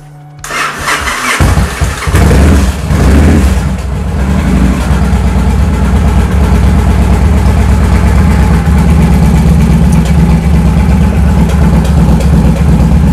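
A 2007 Victory Vegas motorcycle engine cranks briefly, then catches and settles into a steady, loud, close idle that runs without a break.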